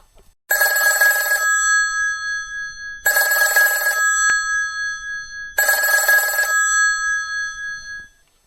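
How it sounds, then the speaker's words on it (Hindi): A telephone rings loudly three times, each a long trilling ring with a pause between, heard close and clear with no voices. "हमारे ऑफिस से मेजर साहब का फोन है"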